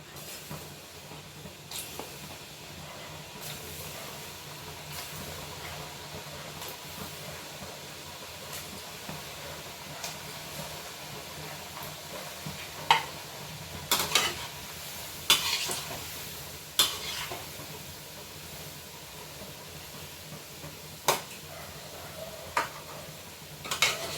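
Sweet seedai, small Tamil dough balls, fry in hot oil with a continuous soft sizzle, broken by louder scraping knocks in the second half and with no talk.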